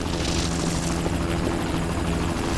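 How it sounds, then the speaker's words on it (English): Helicopter in the PS2 game Spider-Man 2, a steady whirring rotor drone with engine hum holding at a constant level throughout, no talk over it. "so we have to follow that helicopter"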